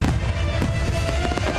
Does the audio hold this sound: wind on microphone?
no